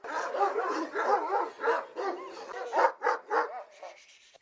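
A large Kangal shepherd dog barks repeatedly in a steady series of deep, loud barks, close by, with no talking.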